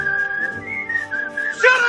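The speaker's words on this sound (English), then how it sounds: "the thugs, including the one who looks a bit like Otis, whistled at Lex as he comes back to the Labour camp to annoy him" Several thugs at a labour camp in the film Superman IV whistle at a man in a long, wavering, sliding tone that sustains through the clip, then a sharper burst of noise at the end.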